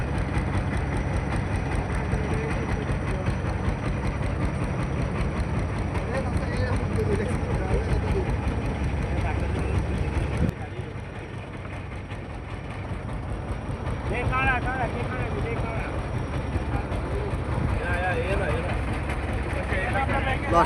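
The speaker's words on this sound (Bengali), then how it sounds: "আপনারা সবাই দেখতে পাচ্ছেন এখন লঞ্চ ছেড়ে দিল" A river launch ferry pulls away at the three-river confluence in Chandpur, its heavy engine droning low and steady, dropping briefly partway through before resuming, with voices faintly mixed in.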